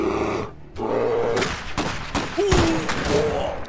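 Gunfire and melee combat in the strategy game Iron Harvest: a few sharp shots and impacts mixed with grunting soldier voices and battle noise, loud and close.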